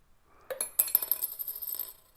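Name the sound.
coin dropping into a glass as the card is flicked away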